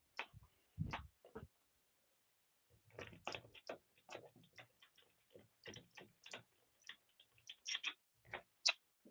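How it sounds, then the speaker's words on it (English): A GoPro wall mount being unscrewed, giving a series of small dry clicks and ticks from the screw and plastic parts, sparse at first and then denser, close and quiet with no talk. "I had to unscrew it."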